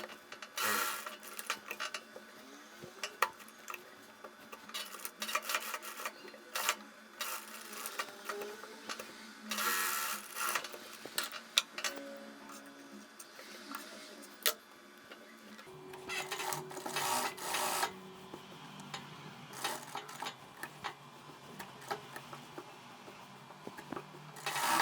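A sewing machine topstitches the seam allowance onto a blouse lining in several short, quiet bursts of mechanical chatter, separated by fabric rustling and handling.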